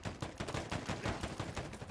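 Assault rifle fire in a free-for-all shooter video game match, a quick run of rapid, evenly spaced shots, fairly quiet and heard alone.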